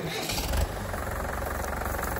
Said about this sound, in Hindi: ट्रैक्टर को आगे कर लो थोड़ा सा